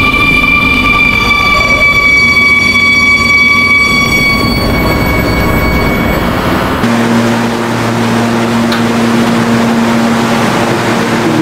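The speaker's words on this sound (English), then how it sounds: "This is a Steinway Street bound 7 express train." New York subway 7 express train bound for Steinway Street running loud and close from inside, a rumbling roar with whining motor tones that shift midway into a steadier drone.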